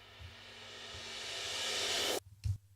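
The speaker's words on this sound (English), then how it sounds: "So let's say you want to import this reverse cymbals audio file." Reversed cymbal sample in a music production project, a steadily swelling wash of hiss rising to a sudden cutoff, followed by a brief low thump and short burst.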